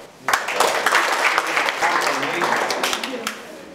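A school audience gives a full round of applause for a large choir's coordinator. The clapping is loud and steady, starts abruptly, and carries on for several seconds with a voice faintly underneath.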